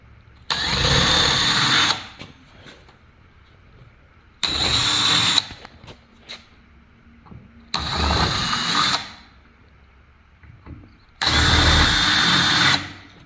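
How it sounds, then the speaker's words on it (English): Power drill clearing paint out of trim clip holes on a 1967-or-later VW Beetle body, four loud whining bursts of about one to two seconds each, separated by quieter pauses with faint clicks. "is to simply drill the paint out of the hole and not actually enlarge the hole"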